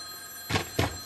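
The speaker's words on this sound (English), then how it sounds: "And that's the phone." Telephone ringing in a room where a Nerf FuryFire blaster is being modified: two short, loud ring bursts about a quarter second apart, standing out clearly above a quiet electrical hum.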